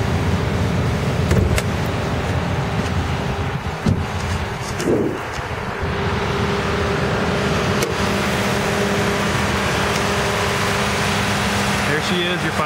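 A 2011 Ram 1500 Sport Crew's 5.7 liter Hemi V8 idles steadily with a low, even drone throughout, joined by a faint fan-like hiss and a brief soft clunk partway through.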